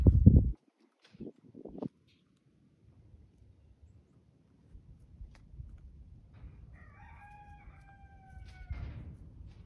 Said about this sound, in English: hopefully that's a hen right there